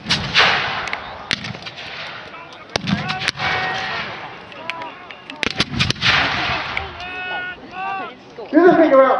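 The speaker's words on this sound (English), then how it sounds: "What we've got going on now is just constant fire" Black-powder muskets fire continuously at a Military Odyssey reenactment, with sharp loud reports scattered irregularly through the clip, some near and some distant, while people talk in the background.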